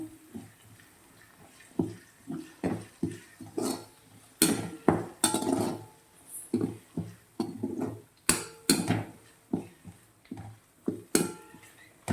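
A spoon stirs green chilli and garlic paste into a green turmeric curry in a pan, making irregular wet scraping and clinking strokes against the metal, close and steady with no talk over them.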